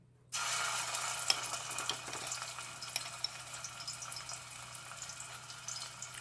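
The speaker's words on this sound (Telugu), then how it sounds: "ఆయిల్ హీట్ ఎక్కాక అల్లం వెల్లుల్లి పేస్ట్ ఒక స్పూన్ వేయండి." Spoonful of ginger garlic paste dropped into hot oil in a kadai, bursting into a loud, steady sizzle that holds with crackling pops for several seconds, with no talking.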